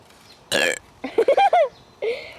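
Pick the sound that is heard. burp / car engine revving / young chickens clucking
burp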